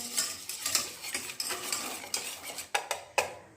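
Spoon stirring spices, food colour and salt into raw chicken in a bowl: a steady run of close scraping and soft clinks, ending with a few sharper taps against the rim.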